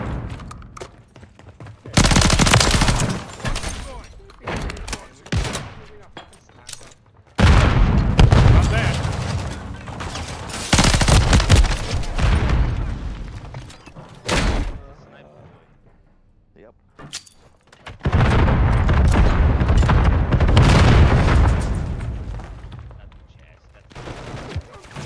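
Bursts of assault rifle fire in Call of Duty MWIII, loud rapid volleys in three main clusters separated by quieter gaps with scattered single shots, voices talking intermittently over the action.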